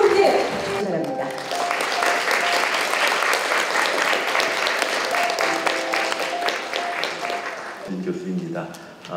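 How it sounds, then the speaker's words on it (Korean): An audience at a carbon-neutrality and green-growth forum in Daegu claps steadily for about nine seconds, a dense, even patter of many hands that fades near the end. "여러분 박수 부탁드리겠습니다."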